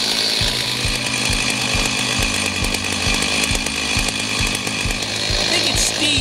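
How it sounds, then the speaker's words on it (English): A chainsaw warming up before cutting big logs: a loud, steady idling engine with regular rhythmic pulses throughout, running alone without talk. "You can really hurt your chainsaw if you don't let it warm up."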